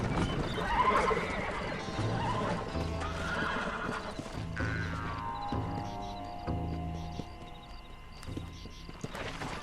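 A horse in the video game Red Dead Redemption neighs loudly near the start, followed by rhythmic hoofbeats and clip-clop steps over a few seconds, with no one talking.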